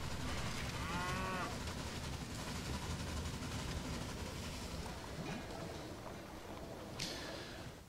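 Cattle mooing in the Railway Empire railway-building game: a drawn-out low moo rings out near the start over a steady, busy game soundscape, followed by fainter ambient rumbles and a brief bright tone near the end.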